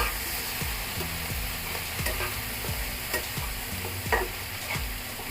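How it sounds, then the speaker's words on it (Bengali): Mashed raw banana with salt, turmeric and green chilli fries in a pan, a soft steady sizzle broken by regular scraping strokes of a spatula about every half second, close and unaccompanied by voices. "এখন ভালো করে ভেজে নিতে হবে"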